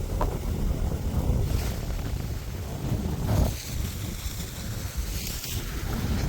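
Wind gusting outdoors over open farmland, a strong steady rush buffeting the microphone with a few louder surges, carrying on without any voices.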